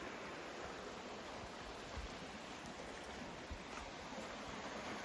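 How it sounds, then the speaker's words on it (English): A small waterfall in a Kennedy State Forest woodland on a mountain loop trail, giving a steady, even rush of falling water that holds constant throughout with no voices. "A little waterfall over there."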